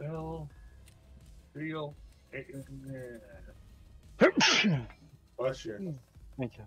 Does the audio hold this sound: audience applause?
no